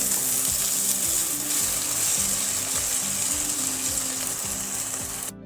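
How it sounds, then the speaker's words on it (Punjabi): Ginger garlic paste masala for aloo matar sizzles loudly and steadily in a pan, a dense frying hiss with a faint repeating low scrape of stirring beneath it, close and without talk. "ਹੁਣ ਮਸਾਲੇ ਨੂੰ ਆਪਾਂ ਚੰਗੀ ਤਰ੍ਹਾਂ ਭੁੰਨ ਲਵਾਂਗੇ"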